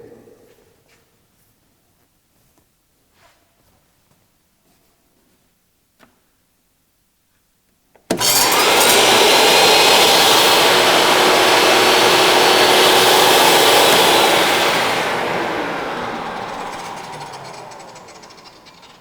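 A SawStop jobsite table saw sits quiet with a few faint ticks, then its motor starts abruptly into a loud, steady whine and roar that holds for several seconds before winding down toward a stop; no talking.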